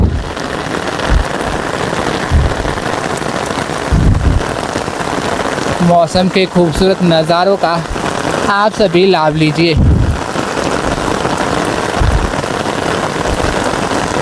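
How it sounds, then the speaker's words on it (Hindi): Heavy monsoon rain pours steadily and loudly throughout on the foot trail from Haridwar to Neelkanth Mahadev in dense fog, with a person speaking over the downpour partway through. "बहुत ज़ोरदार बारिश है"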